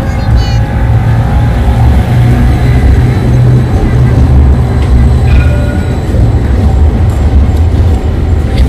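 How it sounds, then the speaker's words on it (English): A loud, continuous rolling rumble as a tram passes close by in Edinburgh, with faint metallic squeals riding over the heavy low drone. "I can see a tram coming in."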